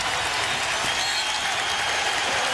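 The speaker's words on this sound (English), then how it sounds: "I told you they would clap when someone scored." A basketball arena crowd at a 2004 NBA Eastern Conference Finals game between the Detroit Pistons and Indiana Pacers applauds a score, with dense steady clapping filling the whole moment without letting up.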